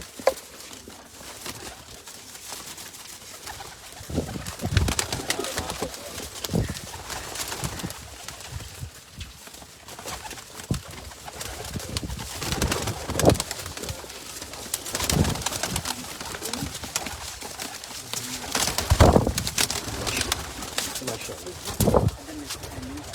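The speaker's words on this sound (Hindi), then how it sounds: "जितने भी कबूतर आपको दिखा रहे हैं सब पीली पलक में है जी।" Teddy pigeons coo repeatedly, soft throaty calls rising and falling throughout, with someone talking over them in the background.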